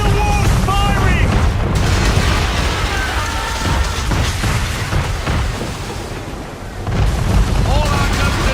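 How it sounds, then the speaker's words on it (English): Heavy cannon fire from a man-of-war warship in Assassin's Creed 3, a loud continuous barrage of booms and blasts with voices shouting over the battle noise. "Man of war's firing!"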